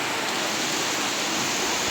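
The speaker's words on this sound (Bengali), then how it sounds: "চলো, এই যে বৃষ্টি হচ্ছে" Steady rain falling outdoors, a dense, even hiss with no breaks, fairly close and moderately loud.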